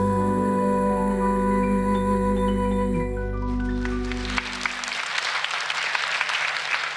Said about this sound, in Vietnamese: Tràng pháo tay vừa rồi của chúng tôi là tràng pháo tay để cảm ơn ca sĩ Đinh Mạnh Ninh, Bùi Hà My và các em thiếu nhi